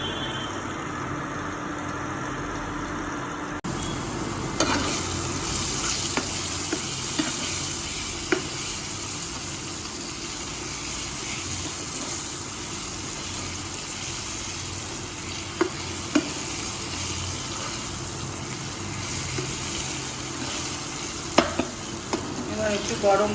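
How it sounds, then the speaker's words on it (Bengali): Shrimp and potato pieces are stirred in a hot frying pan, with a steady close sizzle and repeated scraping and clattering strokes over about twenty seconds and no talking. "এবার চিংড়ি মাছগুলো আরেকবার আলুর মধ্যে নাড়াচাড়া করে নেব।"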